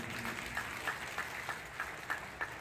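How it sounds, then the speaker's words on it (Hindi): An audience at a staged devotional play about a saint's life claps in unison, giving a quick run of rhythmic, evenly spaced applause. "एक बार जोरदार ताली बजाकर महाराज जी का"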